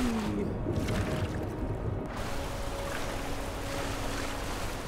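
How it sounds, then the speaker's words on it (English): Swimming through water in the game Skyrim, a steady wash of splashing and lapping water with a soft low rumble and faint whistling tones, continuous and close throughout. "We're having a nice little swim."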